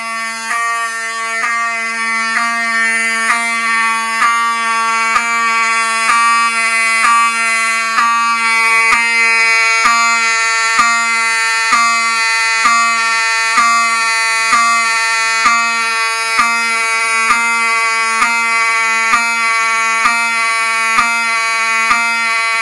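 A Notifier AFP-200 fire alarm system sounds continuously during a test, a loud steady electronic horn tone with regular pulsing beats, close and alone without talk.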